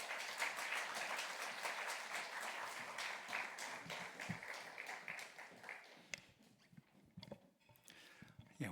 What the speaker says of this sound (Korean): 목사님 나오실 때 우리 뜨겁게 박수로 환영하도록 하겠습니다